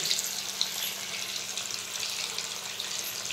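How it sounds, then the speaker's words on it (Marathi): Lati vadi, a traditional Maharashtrian gram-flour roll, fries in hot oil with a steady close sizzle and crackle that holds throughout, with no voices. "आता मस्त असं फ्राय झाल्यात वड्या आहे का नाही तळून"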